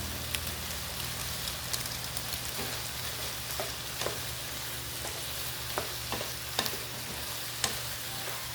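Eggplant sizzles steadily in a hot pan while a spatula stirs it, with scattered light scrapes and taps over the constant frying hiss, close and fairly quiet.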